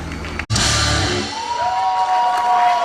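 An audience at a festival breaks into cheering and shouting after a sharp bang, a loud crowd roar that holds for a few seconds with a whistle-like tone rising through it.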